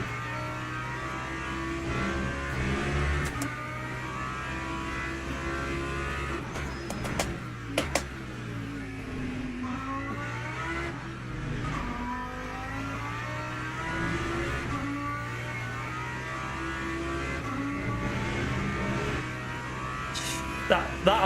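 Race car engine in Le Mans Ultimate on a wet Silverstone track, a steady droning hum that rises and falls with revs, a voice talking over it throughout.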